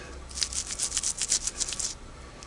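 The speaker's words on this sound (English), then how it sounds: "let me scrub that a little bit with the brush" A brush scrubs grease and grime off the metal of a vintage sewing machine around a screw, producing a quick run of short, crisp bristly rubbing strokes, close and moderately loud, with no talking.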